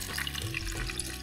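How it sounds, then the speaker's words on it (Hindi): Water pours in a steady splashing stream into kadhi in a kitchen, continuous and fairly close with a faint rush throughout. "पानी आ रहा है, हम कड़ी में डाल रहे हैं"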